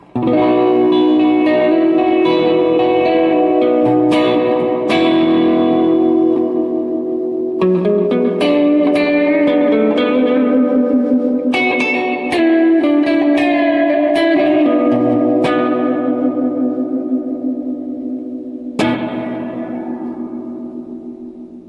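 An electric guitar plays chords and notes through a modified Sluckey Deluxe Reverb Lite amplifier drenched in reverb, each strum ringing out in a lush, lingering wash.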